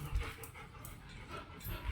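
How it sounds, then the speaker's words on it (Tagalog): Dogs panting with soft breathy rhythm and a few faint whimpers, close by and fairly quiet. "Ayan na si mga aso natin."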